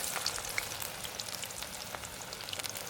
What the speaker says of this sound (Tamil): நான் கொஞ்சம் கொஞ்சமாக போட்டு பொரிக்கிறேன்.